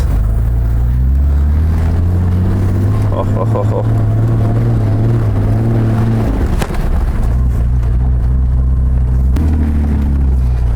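A Mercedes G-Class with a manual gearbox rumbles loudly off-road, its engine droning steadily with pitch shifts as gears change, close and constant throughout, with a brief exclamation from a voice inside.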